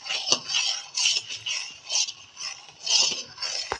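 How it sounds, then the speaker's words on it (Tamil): Roasted flour poured and stirred into boiling jaggery water in a pot for kali, with repeated scraping and metallic clinks of a ladle against the pot in an uneven rhythm, close and fairly loud. "இப்போ மாவை கொட்டி கிண்டலாம்."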